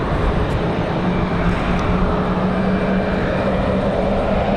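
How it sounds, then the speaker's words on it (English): A Southwest Boeing 737 MAX 8 jet departing for Las Vegas from Raleigh Durham airport gives a steady, loud broadband roar with an engine hum, heard continuously through windy conditions. "So this Southwest MAX 8 off to Las Vegas."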